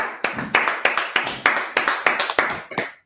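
About ten separate sharp claps, evenly spaced in a steady rhythm, ring out close and moderately loud, with no talk over them.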